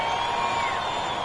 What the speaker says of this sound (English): A big round of applause for your Wizards Breaker